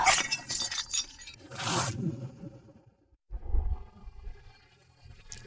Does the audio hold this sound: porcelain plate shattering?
yes